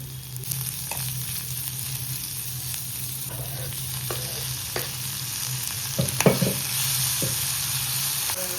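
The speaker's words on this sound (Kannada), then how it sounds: "ಮೆಣಸಿನ್ಕಾಯಿ, ಆನಿಯನ್ ಸ್ವಲ್ಪ ಹುರ್ಕೊಂಬಿಡೋಣ" Green chillies and onion frying in a pan, with a steady loud sizzle and a low hum throughout, punctuated by repeated spatula scrapes and clicks, close up with no talking.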